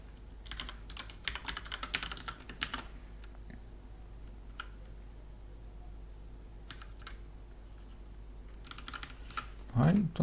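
Typing on a mechanical keyboard fitted with Cherry red switches, steady bursts of key clicks in clusters with a pause mid-way, close and moderately loud, followed by a short tonal sound at the end.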